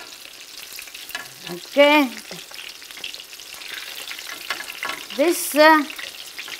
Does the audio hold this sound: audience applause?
no